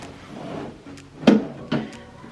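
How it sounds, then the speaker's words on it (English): A deep drawer in a hotel villa room desk at a Disney resort slides and closes with a soft rumble, then two distinct wooden thumps about half a second apart, close by. "This is a really nice deep drawer."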